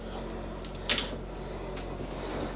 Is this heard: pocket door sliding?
yes